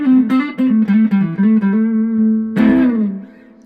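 A Stratocaster electric guitar run through a modeling pedal, voiced to mimic a Les Paul, plays a short, loud, clean melodic phrase of quick picked notes, then rings out on a sustained note that fades.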